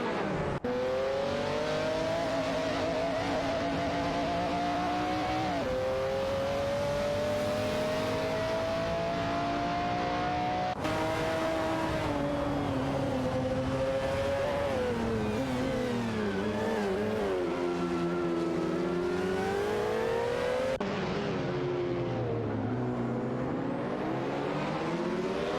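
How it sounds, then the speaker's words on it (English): AI-driven race cars in a racing video game accelerate away, one engine note dominating as it climbs through the revs, drops at each gear change and climbs again in long, loud, continuous sweeps with no talk. "Automobile dashing away."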